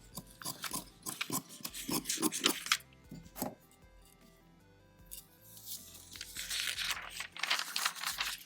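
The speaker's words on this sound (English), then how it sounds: "I'm just going to cut underneath, and I'm cutting just past that sewing line on the other end." Scissors snipping through quilting fabric just beyond a sewing line, a run of close, crisp cuts and crinkling in bursts, with a short lull before more cutting.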